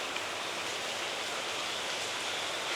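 Heavy rain pouring steadily during a flood disaster in Sri Lanka, a dense unbroken hiss with no pauses or voices.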